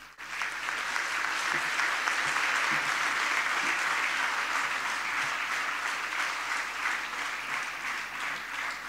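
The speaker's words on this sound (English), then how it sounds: "if I can have a big round of applause." A crowd applauding loudly and steadily at a university convocation ceremony, sustained clapping from a large audience that holds for several seconds before easing slightly.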